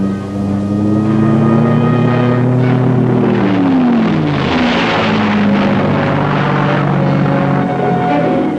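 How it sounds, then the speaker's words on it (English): A USAF O-1E Bird Dog propeller spotter plane drones loudly and steadily, its engine pitch sliding down and shifting as it passes close overhead. "The fixed-wing spotter planes, nicknamed bird dogs, have the job of guiding aircraft into strikes"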